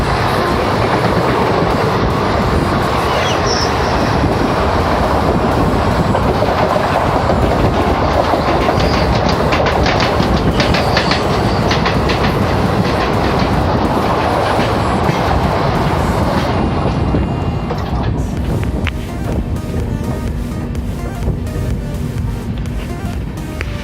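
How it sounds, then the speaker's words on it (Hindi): A passenger train hauled by a WAP4 electric locomotive passes close by with a loud, continuous roar and rhythmic clickety-clack of wheels over rail joints, easing slightly near the end. "तो ये जो ट्रेन आ रही है इसका नेम प्लेट मुझे क्लियर दिखा नहीं, बट इसमें WAP4 लोकोमोटिव लगा हुआ है।"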